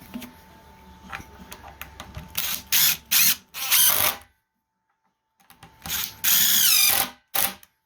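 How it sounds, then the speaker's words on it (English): A power drill drives screws into a clamped wooden Layens horizontal beehive, firing in several short loud bursts with a longer whining run near the end, separated by quiet gaps and small ticking handling noises. "So screwing it in, clamping it, pre-drilling it, screwing it"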